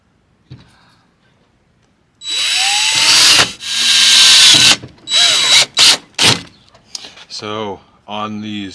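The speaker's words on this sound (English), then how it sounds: "I'm going to drill a bigger pilot hole for these" A power drill whirs loudly in several bursts of rising pitch while drilling a pilot hole in a Chevy G20 van, stopping and starting, followed by a person talking at the end.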